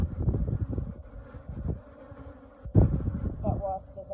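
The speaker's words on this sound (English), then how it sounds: "a lot of bees are lifting off over there" Africanized honeybees swarm around their hive, a dense droning buzz rising and falling as many insects lift off nearby, with a sharp thump partway through and someone talking over it.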